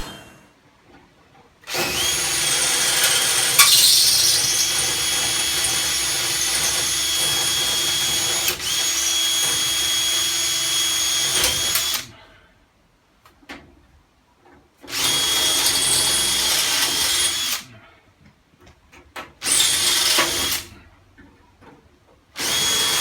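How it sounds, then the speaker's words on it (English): A power drill working on a Sheriff cocktail cabinet door to remove it, close and loud whirring in a long ten-second burst, then shorter bursts separated by silent pauses, with no talking. "now I'm going to have to drill this door off"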